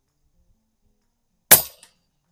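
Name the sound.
air rifle firing JTS pellet at 50 yards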